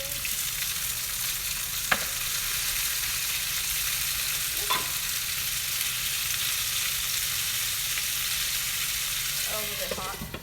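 Tomatoes sizzle in a hot pan for a Szechuan spicy chicken dish, a steady broad frying hiss throughout with a couple of brief scraping stirs, and faint utensil clinks near the end.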